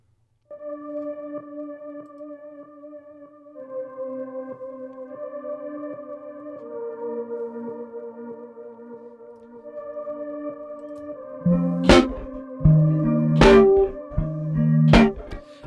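A soft, sustained tape-strings synthesizer melody with slow held notes, playing alone; bright plucked hits join near the end.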